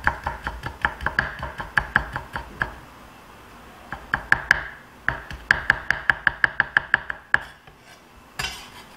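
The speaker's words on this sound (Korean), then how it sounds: "작게 썰어주세요." A knife chopping vegetables finely on a cutting board, with rapid, even bursts of sharp taps in quick runs separated by short pauses, close and crisp.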